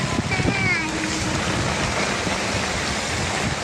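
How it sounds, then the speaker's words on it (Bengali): Heavy rain driven by strong wind on a rickshaw ride, a dense continuous roar of falling water and gusts, loud and close, with a voice speaking over it. "এত জোরে বৃষ্টি পড়তেছে যেন রিক্সা আগে বাড়িতে পারতেছে না, এত বাতাস আর এত বৃষ্টি"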